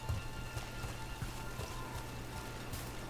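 Steady rain hisses across a scene in the video game Dragon Age: The Veilguard, a dense, even wash of drops with faint rhythmic footfalls ticking underneath throughout.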